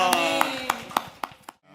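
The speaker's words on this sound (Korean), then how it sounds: "우리 하나님께 영광의 박수 올려드립시다" Church congregation at a worship service clapping in a slow, regular rhythm of about six sharp claps, with a voice speaking underneath.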